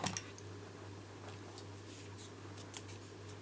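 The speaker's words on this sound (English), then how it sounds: "If you cut it from the back so you can see where you are cutting." Scissors snip through card stock in a quiet room, a few short, crisp cuts in light clusters over a faint steady hum.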